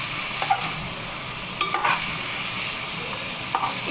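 Mutton pieces sizzle steadily in hot oil for mutton curry, with a few sharp scraping stirs of a spoon against the pan standing out over the constant frying hiss.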